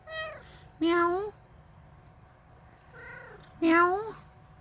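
Pet cat meowing indoors, several short rising-and-falling meows in two pairs with quiet gaps between, close and moderately loud.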